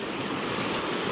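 Deep running water in an urban trout stream rushes in a steady, full broadband wash, close and continuous with no voices.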